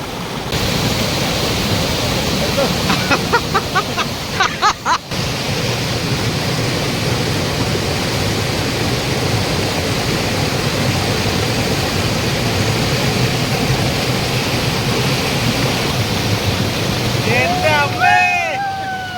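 Njandirukki Waterfalls in Thodupuzha gives a constant, loud rush of falling water filling the whole span, with brief faint voices or whistles breaking through.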